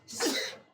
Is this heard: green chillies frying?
no